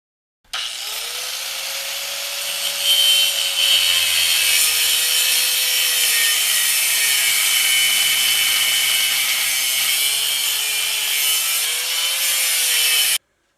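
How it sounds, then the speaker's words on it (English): An angle grinder with a cutting wheel slices through steel seat bolts in a school bus being converted, a continuous loud, close, high-pitched whine and rasp with small shifts in pitch as the wheel bites. "So I've got an angle grinder and a cutting wheel"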